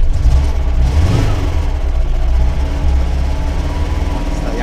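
An old Zaporozhets car's engine runs just after starting, a loud, close, rough mid-pitched drone with an uneven throb that holds steady throughout.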